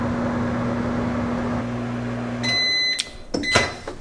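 A microwave oven runs with a steady low electric hum, then gives a few bright beeps and clunks as it stops, with no talking.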